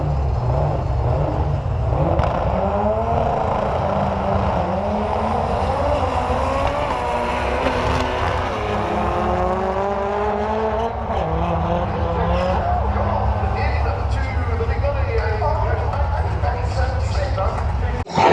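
Doorslammer drag race cars at Santa Pod Raceway roar down the strip, loud engine noise rising and sweeping past, with a commentator talking over it throughout.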